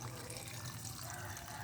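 Water pouring steadily into a cooking pot for a smoked-fish soup, a faint continuous splashing rush from start to finish.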